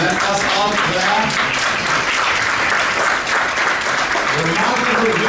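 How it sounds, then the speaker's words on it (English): An audience applauds at a celebration event in a hotel ballroom, loud sustained clapping filling the room while voices talk and call out over it. "can you stand up and let us all clap?"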